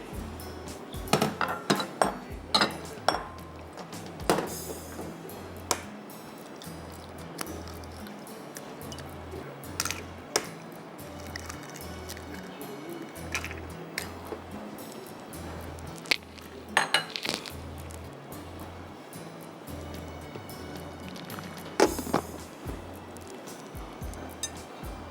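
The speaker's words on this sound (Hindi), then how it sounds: "अब मुझे अंडे 2 थोड़े से दूध में फेंटना है।" Two eggs being whisked into a little milk in a bowl, a fast run of clinking metal-on-bowl taps with wet splashy squishes, steady and close, with no talk.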